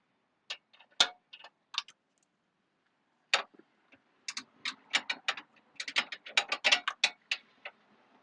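A ratchet with a 14mm socket turning out a spark plug on a boxer engine, giving short close bursts of clicks with pauses between, then a denser run of strokes.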